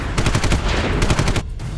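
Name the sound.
gunfire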